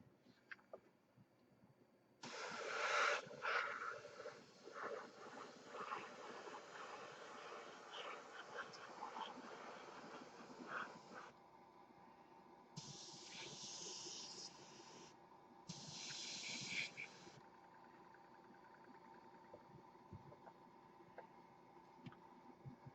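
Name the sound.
spray painting a thick wet coat on a model saucer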